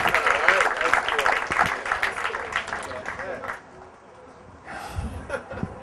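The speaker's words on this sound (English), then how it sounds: "give him a big round of applause" Audience applause for a speaker introduced before a talk on geology and Ice-Age catastrophe, a dense burst of clapping that fades after about three and a half seconds, followed by a faint stir of voices.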